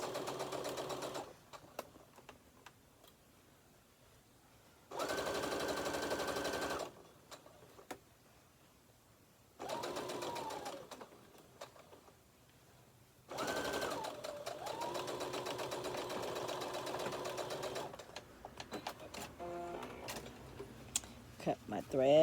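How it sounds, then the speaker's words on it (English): A sewing machine stitching a zipper pouch runs in several bursts of rapid mechanical whirring, separated by quiet pauses, with a longer continuous run in the later part. "Now I'm gonna sew that."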